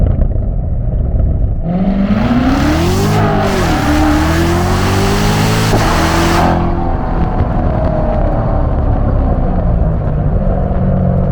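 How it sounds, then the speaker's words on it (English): A 650 hp C7 Corvette Z06 makes a loud first-gear pull, the engine climbing steeply in pitch with a brief dip, then cutting off into a lower drone as the revs fall. "And let's do a first gear pull. Listen to those pops."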